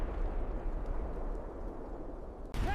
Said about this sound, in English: 800 Lancaster and Halifax bombers of RAF Bomber Command hit the German positions along the axis of advance. Most of the bombs land on target